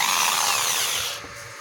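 A power drill with a hole-cutting bit bores into a plastic polytank water tank, a loud close high-pitched grinding whine that eases off toward the end.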